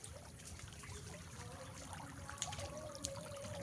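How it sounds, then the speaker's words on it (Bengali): Water flowing in a stream across a flooded field, a steady broadband rush with a trickling, bubbling texture, fairly close and continuous with a couple of brief splashy spikes. "এদিক থেকে আসছে জলের স্রোত।"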